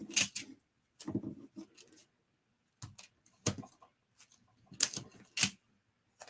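Adhesive strips being pulled off a backing and pressed onto the back of a paper shaker card make sharp crinkly tears and taps in irregular short bursts, close and quiet, with pauses between.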